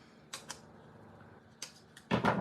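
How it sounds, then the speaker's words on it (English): Scissors cutting a piece of paper for a papercraft project: a few soft, crisp snips spaced apart, then a louder quick pair of cuts at the end, quiet and close. "I'm just going to cut a piece right here."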